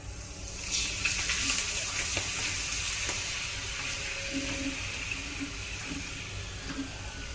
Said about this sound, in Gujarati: હવે આપણે બીજા ભૂંગળા આવી રીતના તળી દઈશું તેલ ઉડે ને